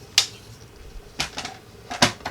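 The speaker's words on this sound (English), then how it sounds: "let me put this back in our trimmer because we're going to cut this" A paper trimmer slices through craft paper and card in three sharp, separate cuts, each a crisp close clack followed by quiet.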